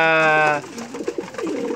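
A pigeon gives a clear, close coo, then softer cooing and rustling murmurs carry on in the background.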